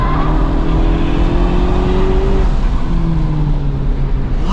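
A Honda Civic Type R FL5 on Pilot Sport Cup 2 tires pulls hard out of a corner on a racetrack, its engine note rising loud and steady, a brief lift, then climbing again, heard close from onboard.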